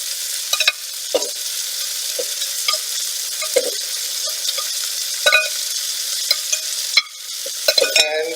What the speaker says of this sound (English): I'm going to go ahead and add the other beef that I've already browned off